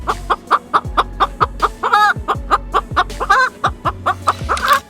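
A crow mimics a chicken, clucking in a quick, regular series with a few longer squawking calls mixed in, close and loud.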